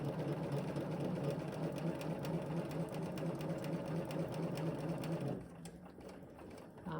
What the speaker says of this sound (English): we're going to just sew right up to the seam so that the needle will be in the seam.